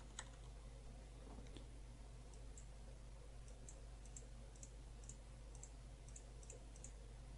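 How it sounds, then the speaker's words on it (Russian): Short single computer mouse clicks made while editing in Photoshop, faint and close, sounding as sparse irregular ticks over a steady low electrical hum, with no speech. "Такими однократными, недлительными щелчками инструмент поправил линию."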